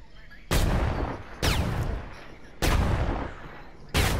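Video game gunfire booms in four heavy, evenly spaced blasts, each loud and near with a rumbling tail that fades before the next shot, with no voices.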